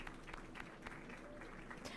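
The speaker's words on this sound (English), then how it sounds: "We're just gonna clap for that one." A crowd claps steadily in dense, continuous applause in a wild-west video game, faint and somewhat distant, with a few sharper individual claps standing out.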